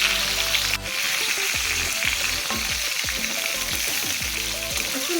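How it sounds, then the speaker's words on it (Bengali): Pieces of catla fish fry in hot oil in a pan, giving a loud, continuous crackling sizzle close by with steady spitting. Tonal sounds run faintly underneath, and no one speaks. "মাছগুলো ভাজা হয়ে গেছে, এইরকমই রাখবো।"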